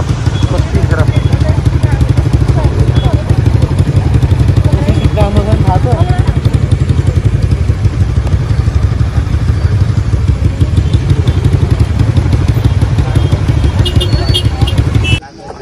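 A motorcycle engine runs throughout a ride in Lower Mustang, a steady, loud low rumble with mechanical clatter and wind that holds without a break until it cuts off at the very end, with voices mixed in.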